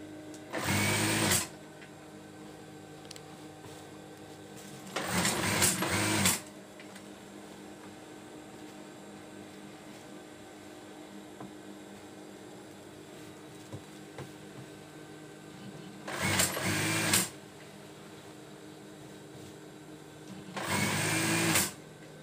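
Sewing machine stitching the elastic edge of a bed skirt, running in four separate bursts of about a second each, with quiet pauses between them and no talking.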